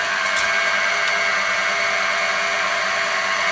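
A Chinese 16mm two-flute indexable end mill cuts metal on a milling machine, producing a loud, steady high-pitched whine and hum with no speech.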